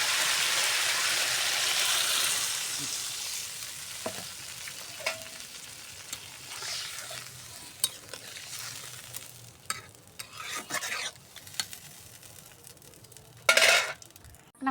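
Water goes into a pan of fish curry cooking on the stove, giving a loud, broad hiss and sizzle that slowly settles into bubbling, with a few sharp clinks of a utensil against the pan toward the end. No one speaks.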